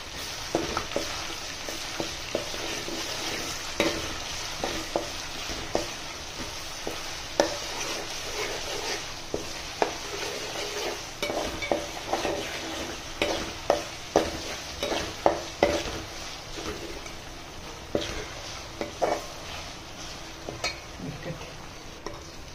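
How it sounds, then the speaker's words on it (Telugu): Ginger garlic paste sizzling in oil in a pan for a chicken pickle, a continuous bright hiss with frequent sharp clicks and scrapes from stirring throughout, no voices. "ఇదిగోండి అల్లం వెల్లుల్లి పేస్ట్ కూడా వేగిపోవచ్చింది"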